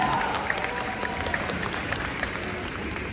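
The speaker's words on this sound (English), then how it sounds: "So please, a huge round of applause for them" A crowd at a Model United Nations conference in Dhaka applauds the organizers, a steady, moderately loud mass of clapping with a few sharper claps standing out, already underway and continuing throughout.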